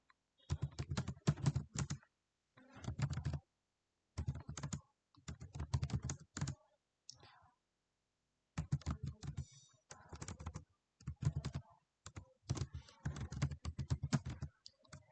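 Java code being typed on a computer keyboard, with bursts of rapid, close key clicks separated by short pauses, no talking over the keystrokes.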